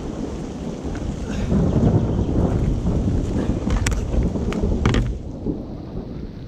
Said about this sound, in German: um uns vor dem Regen und dem Gewitter zu schützen